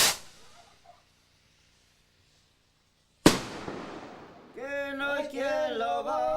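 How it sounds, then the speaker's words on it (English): Fireworks set off in a small Totonac village in Veracruz during Day of the Dead crack twice with loud sharp bangs that decay into rumbling echoes, followed by music starting up. "A man sets off fireworks to call the souls home."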